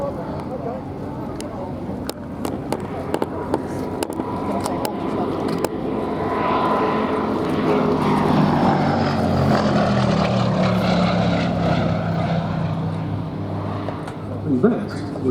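A Gloster Gladiator biplane fighter's propeller engine drones at an air show, rising as it passes and fading away, with a commentator talking over it.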